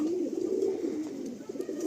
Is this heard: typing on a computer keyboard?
no